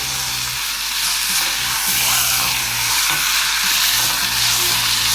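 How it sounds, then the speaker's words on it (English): Mince meat browns in a hot pan with a loud, dense, steady sizzle, broken by rhythmic turning and scraping as it is stirred. "you need to keep turning it because we want it brown, but we don't want it burnt"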